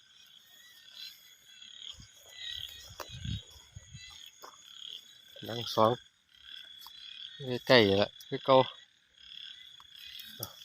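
Frogs give loud, rasping croaks in a few separate bursts, close by, mixed with rustling, handling noises and some brief talking between calls.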